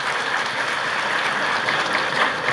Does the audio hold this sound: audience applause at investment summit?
yes